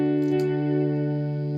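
Dry electric guitar, a single strummed chord left ringing steadily with a slight pick attack near the start, clean and close with no effects added.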